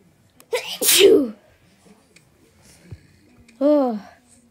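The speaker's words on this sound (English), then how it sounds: "I'm gonna sneeze again." A single sharp sneeze bursts out close to the ear, followed a few seconds later by a short voiced exclamation, with quiet breathy noises between.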